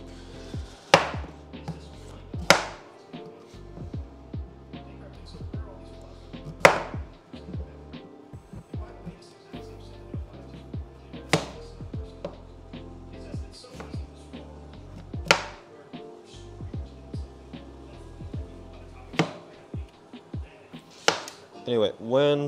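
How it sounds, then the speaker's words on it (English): Sharp knife strikes on a cutting board while slicing butternut squash thin, spaced out irregularly with pauses between cuts, close by; faint background clatter. "when we cut all this up, try and get this nice and thin"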